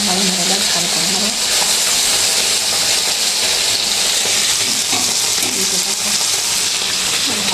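Fish sizzles and fries steadily in hot oil in a pan on a home kitchen stove, a loud continuous crackling hiss with faint talk underneath.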